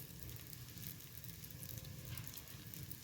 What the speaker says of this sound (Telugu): ఇది కాస్త కాలుతుంది కదండి, ఇలా ఆయిల్ వేసుకోవాలి.